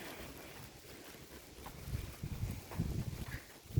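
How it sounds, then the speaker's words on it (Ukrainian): Chilly wind blowing outdoors on a cool autumn day in Zhytomyr, rushing and buffeting the microphone in rising gusts, fairly close and steady, with no voices. "Вітерець дує."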